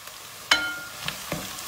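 Peppers tipped into a pan of well-browned onions, a sharp sizzle bursting up at the moment they land, followed by a steady frying hiss and a couple of soft stirring scrapes.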